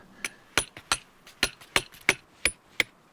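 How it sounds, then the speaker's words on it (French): A hammer drives a chisel into rock inside a mountain crystal cavity on Mont-Blanc, giving about ten sharp metallic clinks at an irregular, unhurried pace, close and clear with no talk. "le marteau et le burin sont les seuls outils autorisés"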